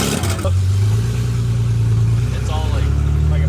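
BMW E28 engine fitted with new headers and no exhaust, starting up and settling into a loud, raw, throbbing idle under people talking nearby.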